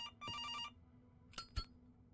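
A telephone rings inside a video game with a loud electronic double ring at the start, then a pause and a couple of short clicks or knocks.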